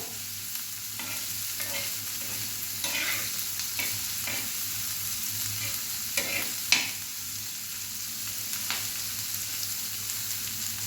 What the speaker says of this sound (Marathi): आता कांदा आपल्याला छान भाजू द्यायचा